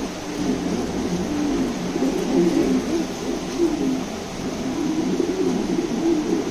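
White King pigeons, a new adult running pair, coo in low, rolling phrases that repeat steadily and close by, with no talk over them.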